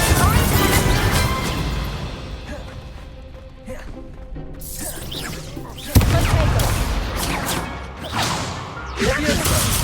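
Spell combat in Hogwarts Legacy: dense bursts of magical blasts, whooshes, crackling fire and crashing impacts, loud and continuous with a sharp hit near the middle and a busy, layered battle texture throughout.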